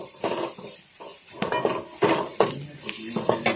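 A spoon stirs garlic and ginger frying in a pan for green moong dal amti, giving irregular metallic scrapes and clinks over a faint sizzle.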